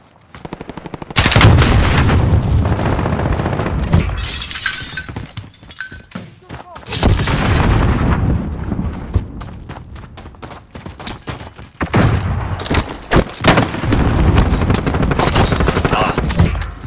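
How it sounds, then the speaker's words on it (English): Precision airstrike explosions in Call of Duty Modern Warfare erupt as loud bursts and rolling blasts, separated by short lulls, with gunfire-like crackle and radio voices mixed in. "Precision airstrike, ready on your mark."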